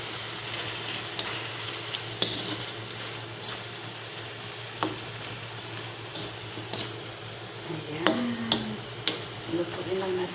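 Shrimp fry in olive oil with their marinade sauce in a pan, giving a soft continuous sizzle with scattered ticks and clinks of stirring toward the end.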